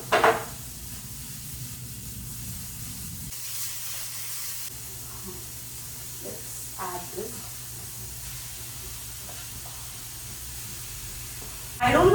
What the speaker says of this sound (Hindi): थोड़ी सी वेजीज डालेंगे। सब हाई फ्लेम पे ही कुक करेंगे अपन।